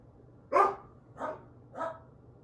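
A dog barks three times indoors, one sharp bark followed by two softer ones spaced about half a second apart, fairly close and alone against a quiet background.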